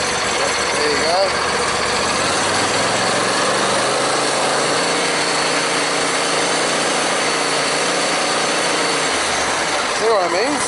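Small engine of a new zero-turn mower starting up and running, a loud buzzing drone close by that holds steady and lifts as it is revved near the end.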